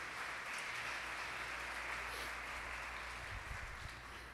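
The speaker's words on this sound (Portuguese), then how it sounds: "Posso ouvir um aplauso ao Senhor por conta disso" Church congregation applauding during a worship service, steady clapping at moderate distance that fades slightly toward the end, with no talk over it.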